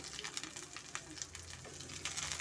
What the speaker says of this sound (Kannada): ಸ್ವಲ್ಪ ಕರ್ಬೇವು ಸೇರಿಸ್ತಾ ಇದ್ದೀನಿ ನೆಕ್ಸ್ಟು ಇದಕ್ಕೆ ನಾನು ಪುದೀನ ಮತ್ತು ಕೊತ್ತಂಬರಿನೂ ಅಷ್ಟೇ ಎಣ್ಣೆಯಲ್ಲಿ ಹುರ್ಕೊತಾ ಇದ್ದೀನಿ